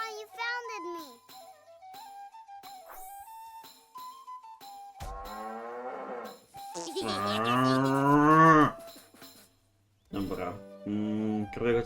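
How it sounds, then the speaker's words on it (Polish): Cows moo loudly and repeatedly in the video game South Park: The Stick of Truth, long drawn-out calls alongside a higher cartoonish voice, with a short quiet gap before a final moo. "Nie można przewracać krów."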